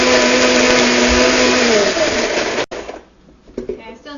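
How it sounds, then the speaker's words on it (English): A countertop blender whirs loudly and steadily, blending a dairy-free cashew cheese sauce, its pitch dipping slightly before the motor cuts off abruptly, leaving quiet kitchen sounds and faint handling noises. "So we're going to blend it a little longer."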